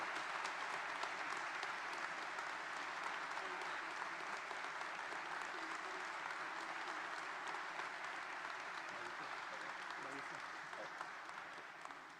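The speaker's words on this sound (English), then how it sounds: "Let's give the chief one more round of applause here." Sustained applause from a crowd at a police chief's swearing-in ceremony, a steady dense patter of clapping that holds for several seconds before gradually thinning and fading toward the end.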